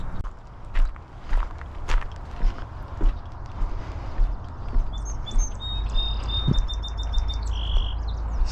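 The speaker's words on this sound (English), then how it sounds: "Song sparrow." A song sparrow sings a short, bright trill near a pond in the second half, over steady outdoor ambience with footsteps crunching along a path beforehand.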